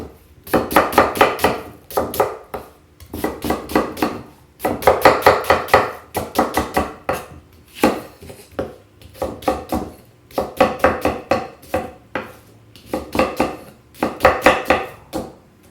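A knife chops onions into little pieces on a board, loud and close: rapid rhythmic strikes in repeated bursts separated by short pauses, with no voices.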